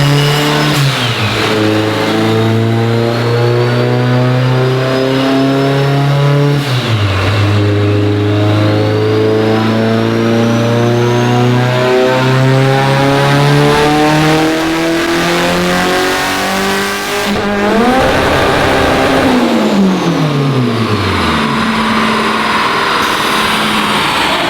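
A Mitsubishi Evo 8 engine on pump gas screams through a dyno pull, loud and close, its pitch climbing steadily. It drops sharply twice as the revs fall back, then rises again.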